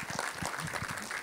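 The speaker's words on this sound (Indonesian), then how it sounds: "Beri tepuk tangan dulu buat Tuhan." A church congregation applauding during a sermon, dense clapping from many hands that fills the room, brief and steady.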